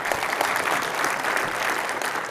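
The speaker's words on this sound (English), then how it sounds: "I think we owe them a round of applause" Sustained applause from a conference audience in a large hotel ballroom after keynote speakers, a dense, steady clapping from many hands that fills the room for the whole stretch without pause.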